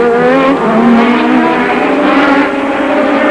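A 1986 Spanish Grand Prix Formula 1 car screams past, its high engine note sliding downward as it goes by, loud and close, with crowd and track noise beneath.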